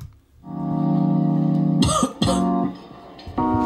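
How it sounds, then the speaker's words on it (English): Two or three sharp coughs break over a sustained droning tone, close and loud, with no speech. "That was an intentional cough, by the way."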